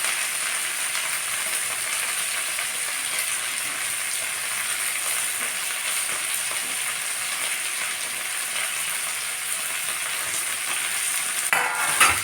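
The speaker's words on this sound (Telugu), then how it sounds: "ఇది కొంచెం ఇలా వేగిన తర్వాత ఈ ఆకునే ఇలా ఫ్రై చేసుకోవచ్చు" Ponnaganti leaves frying in a pan, a soft continuous sizzle with stirring rustles, fairly quiet and steady, with a brief clatter near the end.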